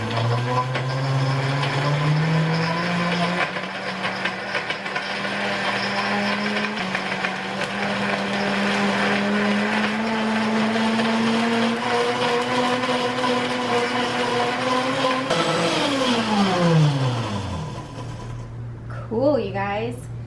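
A Hamilton Beach 55000 Proctor Silex high-powered blender blends a date smoothie on its lowest setting. The motor whines steadily, its pitch rising slowly, then winds down near the end.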